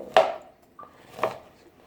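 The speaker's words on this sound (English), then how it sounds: "I like chopping my onions kind of nice" Two sharp knife chops through onions on a cutting board, close and crisp, separated by a short pause with a faint clink between them.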